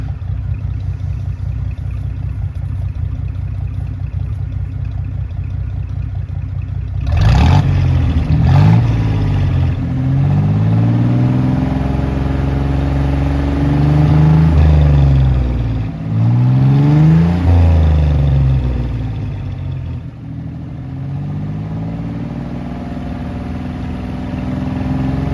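A Jeep CJ5 with a Dauntless V6, Flowmaster mufflers and rear tailpipes idles with a low rumble, then revs loud and close in several blips that settle back to idle, with no talking.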